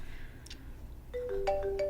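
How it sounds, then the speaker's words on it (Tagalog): A mobile phone ringtone starts partway through, playing a bright electronic melody of sustained tones over a quiet room background, fairly close, with no talk. "Ay, ako cellphone."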